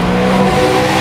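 Singer-reimagined Porsche 911 DLS engine blipping during a downshift, a loud, close, continuous rev with a brief rising tone and no voices, filling the whole moment.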